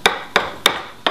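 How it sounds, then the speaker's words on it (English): Knife chopping vegetables for a fattoush salad on a cutting board: four sharp, evenly spaced chops, each a crisp close knock with a short decay. "nice and tight, because that's the easiest way to chop it"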